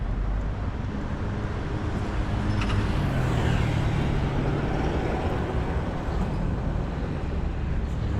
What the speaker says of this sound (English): Pretty busy main roadway. A lot of buses.